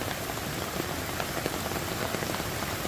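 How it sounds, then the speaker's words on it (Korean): Heavy rain pours down steadily on a farm hillside beside a drainage ditch during a severe downpour, a dense, continuous hiss of drops close by with no voices. "와, 정말 비 무섭습니다."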